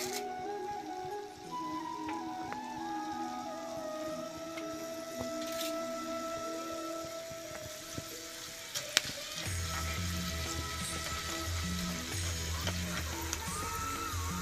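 Coriander seeds dry-roasting in a pan for a Telugu pulihora tamarind paste, a steady soft sizzle and frying crackle with occasional faint clinks from stirring, no talk.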